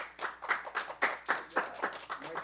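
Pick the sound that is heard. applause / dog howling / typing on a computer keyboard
applause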